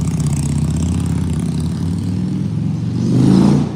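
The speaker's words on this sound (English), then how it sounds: "I hate the sound of motorcycles. They are so loud." A loud motorcycle engine rumbles on a street in Federal Hill, Providence, Rhode Island, idling heavily nearby before a short rev swells near the end.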